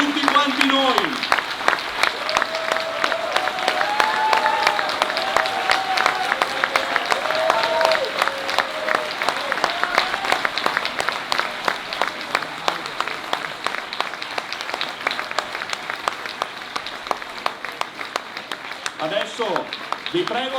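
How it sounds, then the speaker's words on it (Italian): Audience applause at a Partito Democratico rally in Mogliano Veneto, sustained rhythmic clapping that carries on for the full stretch, with a voice speaking over it and some shouts near the start and end. "Adesso vi prego di non fermare questo applauso"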